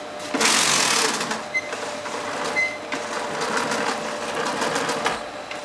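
Sewing machine running steadily and close up, stitching hot air balloon fabric along a flat-felled seam, with a sustained mechanical whir and brief pauses in pace.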